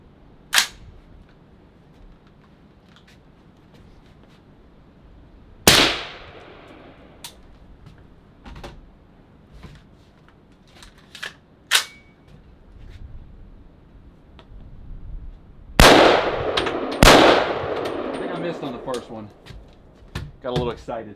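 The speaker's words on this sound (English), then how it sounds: "So we're gonna just shoot this three times, just right in a row, and then go take a look at it." Rifle shots are fired at a bowling ball outdoors, with sharp, loud cracks spaced apart and then two close together near the end. Quiet talk and small handling clicks fill the gaps.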